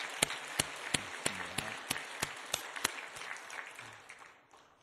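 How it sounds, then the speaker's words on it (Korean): Church congregation clapping for the choir after a hymn: loud, sharp, distinct claps near the microphone over a sustained crowd applause that gradually fades toward the end. "뜨거운 박수로 한 번 더 격려하겠습니다."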